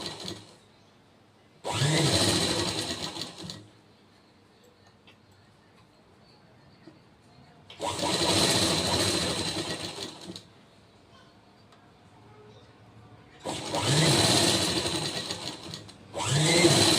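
Sewing machine stitching blouse fabric, three separate bursts of loud rapid whirring stitching, each lasting a couple of seconds, with quiet pauses between them.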